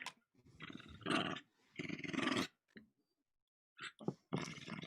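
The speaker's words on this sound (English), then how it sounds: "I'm guessing everyone on the stream is just hearing growls." A dog growls and snarls in several rough, uneven bursts during play indoors, close and fairly quiet, with short pauses between growls.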